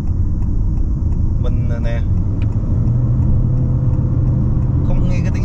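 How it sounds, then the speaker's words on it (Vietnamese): A 2022 Honda HR-V with a CVT gearbox accelerates on a Saigon expressway, its engine a steady, loud drone heard from inside the cabin while a person talks over it. "nghe cái tiếng động cơ nó tăng tốc thôi, đã lắm."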